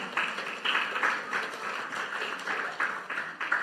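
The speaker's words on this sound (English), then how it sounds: "A round of applause for the pastor's wife." Church congregation clapping for the pastor's wife at a worship service, a steady patter of many hands at moderate level with faint voices mixed in.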